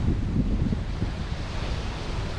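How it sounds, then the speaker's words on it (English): Steady roar of lake waves rolling onto a shore at Pictured Rocks National Lakeshore, continuous low rumble of surf with wind blowing across the microphone. "I can hear these waves crashing all night long."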